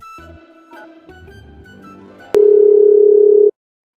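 A telephone call being placed: a few button presses and soft handling noises, then a steady, loud ringback tone that sounds once for about a second before cutting off to silence.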